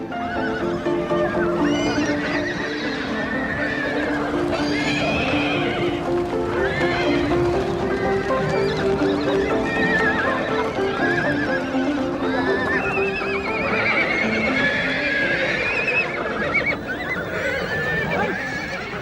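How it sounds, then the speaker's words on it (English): Mongolian horses gathered by herdsmen in early spring for breaking in neigh and whinny repeatedly over a continuous clatter of many hooves, a dense, loud herd sound throughout. "In early spring, herdsmen gather the horses for breaking in."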